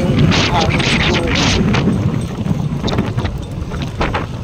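Strong wind during a typhoon flood over submerged rice fields, a loud, close, gusty rush buffeting the microphone, with people talking over it.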